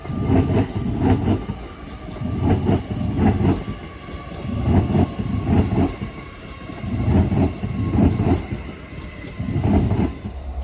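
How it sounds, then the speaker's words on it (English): An Avanti passenger train, 805001, rolls past steadily at Crewe, with a rhythmic clickety-clack of wheels over rail joints and a constant rumbling hum. "we have one of the new Avanti trains running from Edgehill Depot to London Euston"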